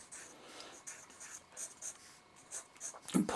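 Pencil sketching boots on paper, a series of quiet scratchy strokes in uneven rhythm, close up, with a faint thump near the end.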